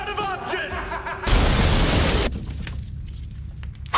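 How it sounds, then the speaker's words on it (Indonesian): A huge explosion rips through a parking area in a film scene: a sudden, loud broadband blast cuts off the earlier voices and music, roars for about a second, then gives way to a lower lingering rumble. "Ledakan dahsyat di area parkir melempar Jack hingga tak sadarkan diri."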